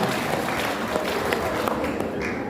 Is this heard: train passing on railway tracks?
no